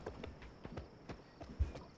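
Hooves of a horse clip-clopping in a video game, a series of faint, fairly evenly spaced hoof thuds at walking pace, alone without speech.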